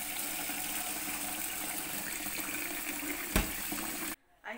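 Water pours steadily over washed rice in a cup as it is set to soak, a continuous rushing splash close by that cuts off sharply near the end.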